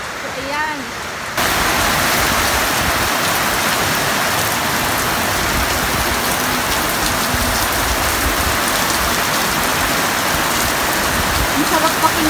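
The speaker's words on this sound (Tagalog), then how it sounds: "Ang sarap pakinggan ng ulan mga kaswerte kasi sobrang init po." Steady rain falls on a hot day over a vegetable garden, a dense continuous patter that fills the whole stretch after a brief quieter opening, loud and close with no talk over it.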